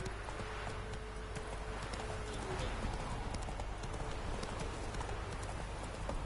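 A horse gallops in The Witcher 3 video game, its hoofbeats a continuous, rapid clip-clop running steadily at moderate volume without a break.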